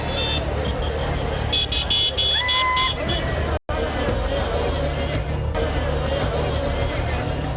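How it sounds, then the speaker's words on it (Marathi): A street traffic jam in Mumbai near CSMT and the BMC office, with vehicles blocked by protesters; short horn toots and an alarm-like tone rise over steady engine rumble and crowd babble, with voices talking. "आंदोलक रस्त्यावर आल्यामुळे वाहतूक कोंडी देखील झाली होती."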